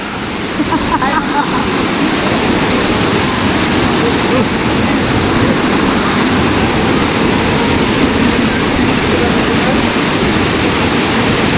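Powerful rushing spring water at Badiang Spring Resort roars steadily and loudly throughout, a dense, unbroken torrent close by.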